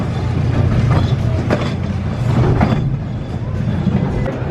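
A small amusement park ride train at Idlewild rumbles along steadily, passing old cabins and crossing a bridge, with a low continuous rolling noise and some voices mixed in.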